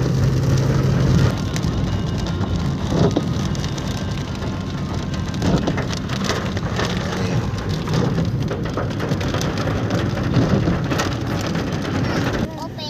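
Steady rain drums on the roof of a vehicle on the way to Patar White Beach in Bolinao, Pangasinan, a dense continuous patter running under occasional voices and ending abruptly near the close.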